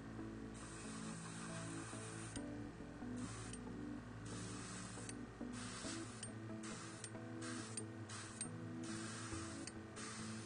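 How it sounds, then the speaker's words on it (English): Spray paint hisses steadily onto the cloak of a Space Wolves miniature for about ten seconds, with a constant soft mechanical whir and a few faint clicks layered underneath, close and continuous with no speech. "spray down this section here"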